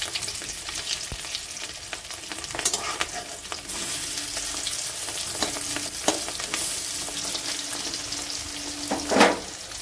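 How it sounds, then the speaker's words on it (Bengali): Flipped fish roe fritters, bound with egg, keep frying in oil in a kadai: a close, steady sizzle broken by scraping turns of a spatula and a brief louder splash of spatter near the end. "ডিমের বড়াগুলো দেখুন উল্টে নেব।"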